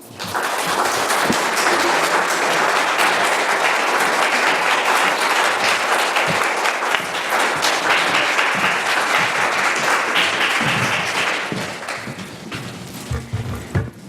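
An audience gives loud, sustained applause welcoming poets Elizabeth Alexander and Kevin Young to the stage, a dense wash of clapping that holds for about eleven seconds before thinning into scattered claps.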